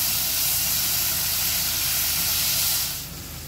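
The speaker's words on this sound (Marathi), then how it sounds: "यामध्ये आता हे 2 ते 3 मिनिटं आपण असं परतवून घेऊया, जेणेकरून कांदा आणि टॅमॅटो व्यवस्थित शिजला जाईल आणि पाणीसुद्धा सुटेल।" Onion and tomato sautéing in a pan, a steady broad hiss of sizzling throughout that drops a little near the end, with no talking.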